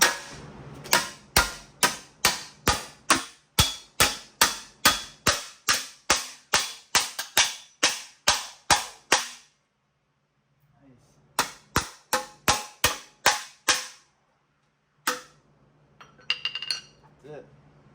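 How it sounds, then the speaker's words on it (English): Loud, rapid metal-on-metal hammer blows on a metal extended swingarm for an E&C Extreme SX Razor scooter in a garage: a steady run of about twenty strikes, a short pause, another burst of about eight, then some scuffling clatter. "came to the garage to bang the hell out of this. Be loud and bang it."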